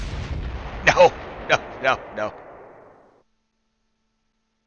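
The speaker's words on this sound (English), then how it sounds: "Somebody's shooting. Mortars inbound." Mortar shells land in the Close Combat III war game as a rumbling barrage, followed by a few sharp, distinct blasts in quick succession that fade into silence, with a short spoken word amid them.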